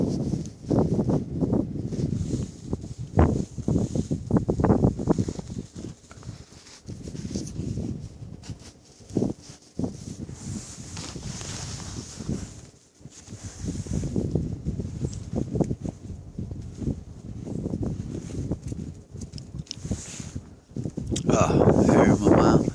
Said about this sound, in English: If I could get out of this wind.